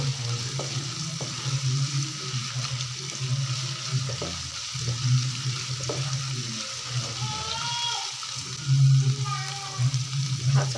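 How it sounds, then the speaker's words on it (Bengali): Ginger garlic paste fries in a little oil in a home kitchen, a continuous sizzle with stirring and scraping sounds, a low background hum, and a faint voice now and then. "একটু তেলের মধ্যে আদা রসুন বাটাটা একটু ভেজে নেব"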